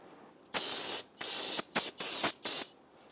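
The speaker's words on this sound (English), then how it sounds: "we're going to spray it down with some spray solvent and clean up any of that old brake fluid" Brake cleaning solvent sprayed from an aerosol can onto a 2000-2006 Toyota Tundra master cylinder area: loud hissing bursts, one long spray then several shorter ones in quick succession, close up.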